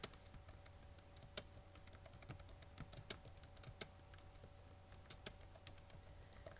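Keys clack on a computer keyboard while someone writes C++ code for a guess-the-number game, producing quiet, irregular taps and a few sharper strokes like the enter key, close and alone in a near-silent room.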